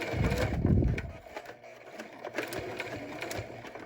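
A sewing machine stitches a fabric face mask channel for a weed whacker cord, running in a steady fast mechanical chatter that starts loud and eases into a softer continuous hum with faint clicks, alone without voices.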